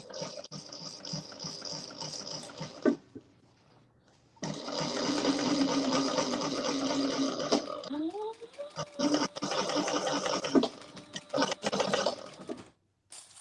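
Sewing machine top stitching runs in two close bursts of rapid mechanical whirring with a quiet gap between, and people talk over it.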